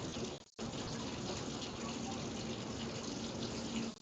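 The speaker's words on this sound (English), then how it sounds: "I let my hot water for a little bit." Hot water gushes steadily from a kitchen tap in a continuous hiss, briefly cut off near the start and then flowing on without a break.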